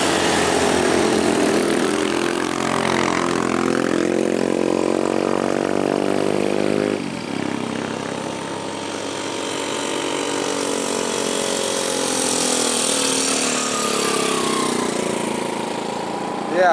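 A labouring motorcycle engine strains loudly and steadily on the steep Kelok 44 uphill road at Jumprit, Temanggung, its pitch rising then dropping as it climbs, with the engine drone continuing throughout.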